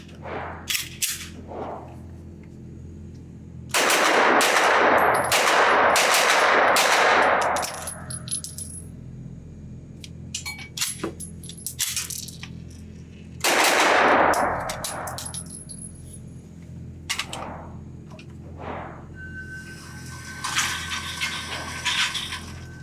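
Sig Sauer P320 pistol mounted in a CAA MCK chassis firing at steel targets on a range, loud sharp shots in two clustered strings with ringing metallic clangs and pauses between.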